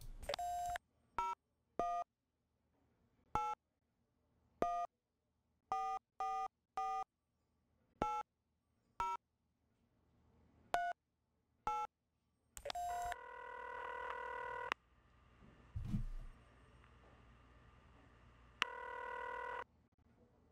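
In The X-Files video game, a phone is dialed with a string of short touch-tone beeps at uneven intervals. Steady repeating busy-signal tones follow, clear and alone against silence.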